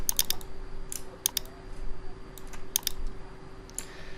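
Computer keyboard keys are typed on while working in InDesign, producing short bursts of crisp clicks in irregular clusters over a quiet background hum.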